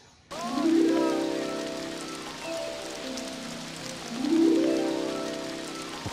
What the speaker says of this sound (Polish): Popadało i przestało na szczęście.